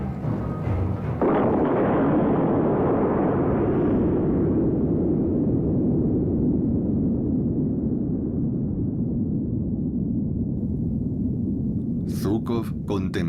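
Soviet atomic bomb test explosion from Operation Snowball, south of the Ural Mountains: a sustained, loud low rumbling roar that swells after a sharp onset and slowly fades, with a brief crackle of bursts near the end.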